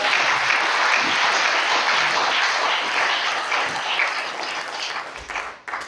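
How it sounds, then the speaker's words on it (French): A church congregation at a New Year's Day communion service applauds and cheers for Jesus, a loud, dense, continuous wash of clapping that fades slightly toward the end. "Acclamez pour Jésus."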